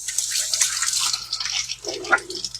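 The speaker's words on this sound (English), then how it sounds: "I'm going to wash my hands one more time." Hands being washed under a running kitchen tap, with a soft close splash and trickle of water and a few brief drips toward the end.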